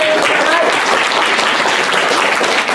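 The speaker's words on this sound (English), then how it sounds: "give him a round of applause" Audience applause at a school Revolutionary War classroom activity, close and loud steady clapping from a group that carries evenly through the whole clip.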